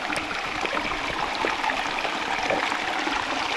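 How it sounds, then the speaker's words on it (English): Water trickling and flowing beneath big rocks outdoors, a steady close rushing burble without pause. "Hear the water all over under these big rocks,"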